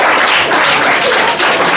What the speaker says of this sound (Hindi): उमेश के लिए ताली बजाओ भाई